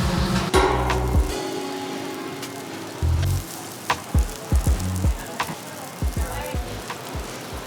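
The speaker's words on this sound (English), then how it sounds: "So prawns are on the grill." Tiger prawns sizzle on a grill at a Thai seafood spot in Pattaya, a steady hiss under sharp clanks and taps of utensils, with brief bursts of louder crackling.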